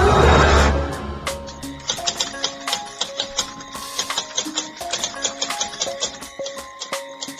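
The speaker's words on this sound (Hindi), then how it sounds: "टाइपराइटर की बटन दबने की आवाज सुनाई दे रही थी" Typewriter keys clack in an irregular stream of sharp, close strikes with metallic ringing, following a brief low rumble at the start.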